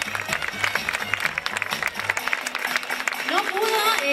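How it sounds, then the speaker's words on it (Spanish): An audience at a gala awards night claps in a brisk burst of applause with a thumping beat behind it, the clapping dense at first, then a voice begins speaking as it winds down. "¡Fuerte aplauso para el compañero!"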